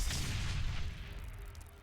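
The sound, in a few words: scrap grenade explosion in video game Dreadlands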